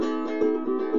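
A ukulele rings through a short, bright strummed chord, with quick strokes landing in a steady rhythm, played close with no voices.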